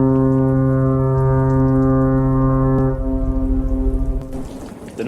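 A lighthouse foghorn sounds a loud, sustained deep blast for about three seconds, then breaks off into rumbling, rain-like noise.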